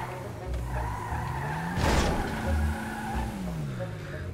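A car in the video game GTA RP skids to a stop with a loud, sharp tire squeal over a steady engine hum. The screech swells briefly midway and then settles back under the continuing motor drone.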